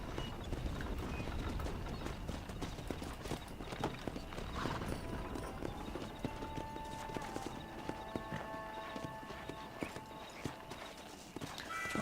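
Horse hooves clip-clop steadily in the video game Red Dead Redemption, a continuous rhythmic trot with a faint whinny, close and moderately loud, with no talking.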